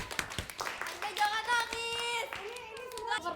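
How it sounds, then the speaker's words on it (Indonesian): Hand claps from a livestreamed group exercise session, a handful of sharp claps early, then steady sustained tones and talking layered over the clapping. "Tepuk tangan."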